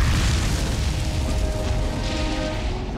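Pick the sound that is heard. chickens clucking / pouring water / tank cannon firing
tank cannon firing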